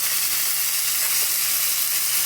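Puti fish curry with crushed green chili, cumin and spices sizzles in a pan while being stirred, giving a steady, fairly loud hiss with no speech.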